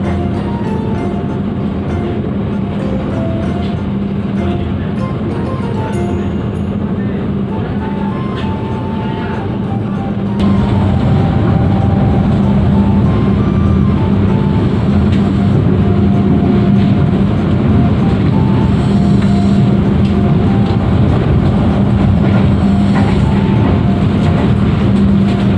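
Taksaka passenger train running near Bekasi toward Jakarta at night, a continuous loud rumble of wheels and carriage noise heard from on board that grows louder partway through, with faint voices underneath.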